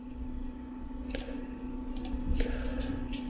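Several sharp, isolated computer mouse clicks sound at irregular intervals over a steady electrical hum in a quiet room, with no speech.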